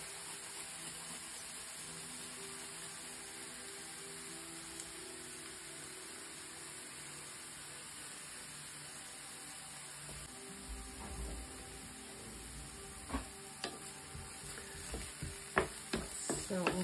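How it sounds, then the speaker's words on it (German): Spring onion and garlic gently frying in a pan, a steady soft sizzle with occasional louder pops and stirring clatters toward the end, no voices. "Und in der Zeit, wo die Zwiebel mit dem Knoblauch dünstet"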